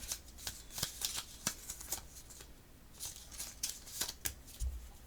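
Playing cards being shuffled during a tarot-style reading, a run of quiet, crisp riffling bursts with short papery snaps spread across the clip, close and soft, with no talking.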